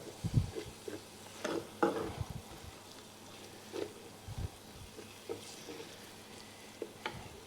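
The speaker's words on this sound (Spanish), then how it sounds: "Cocinamos la harina" Flour cooks in a pan beside artichokes while a spoon stirs it. Soft sizzling runs under scattered scraping and knocking strokes, quiet and close, with no voice.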